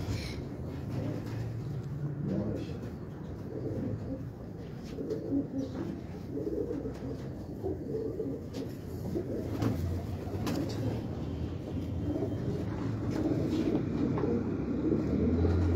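Pigeons coo on a Karachi rooftop, soft repeated burbling calls layered over a faint background murmur and occasional distant noise, fairly quiet throughout.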